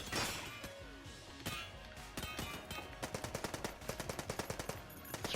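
Super Meat Gun firing in the video game Enter the Gungeon: loud, dense bursts of rapid gunfire, building into a steady stream of sharp repeated shots near the end.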